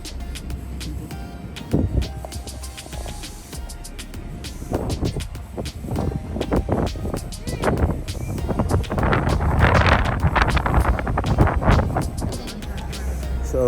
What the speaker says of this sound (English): Cold and windy out here, so we've had enough.